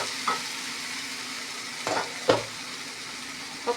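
Sliced radish sizzles in a hot frying pan as a spoon stirs it, a steady close hiss punctuated by a few sharp scraping strokes against the pan.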